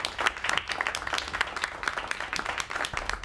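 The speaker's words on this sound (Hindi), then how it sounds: "तालियों से स्वागत कीजिए" An audience applauds to welcome a guest at a stage show, a continuous patter of clapping with scattered sharper claps, moderately loud and steady for about three seconds.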